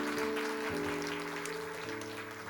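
A congregation at a Korean church's year-end Sunday service claps together, a continuous dense patter of applause with organ-like sustained tones underneath.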